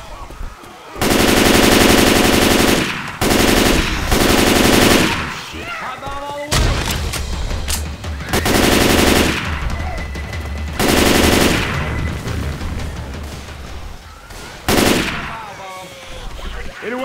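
Video-game gunfire in Left 4 Dead 2, The Passing campaign on Expert, long loud bursts of rapid automatic fire broken by short pauses and scattered single shots, with players' voices now and then between bursts.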